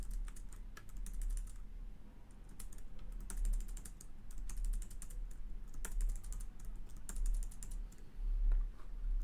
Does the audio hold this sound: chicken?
no